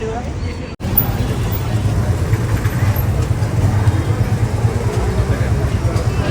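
A vehicle engine runs close by at a crowded spot outside a Ganpati darshan in Pune, a steady low rumble under constant crowd babble throughout.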